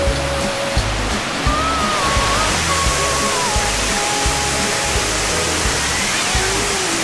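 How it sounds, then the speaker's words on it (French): A waterfall in Wang Kan Lueng, Thailand, roars loudly and continuously, a dense wash of rushing water filling the whole scene with no voices, heard from a suspension bridge above it. "on passe au-dessus de la cascade"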